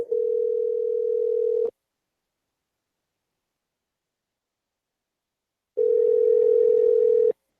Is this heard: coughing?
no